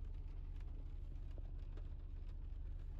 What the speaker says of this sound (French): Regardez-moi ça, il pleut.